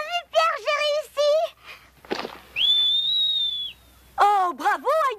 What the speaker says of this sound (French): Je sais siffler, youpi.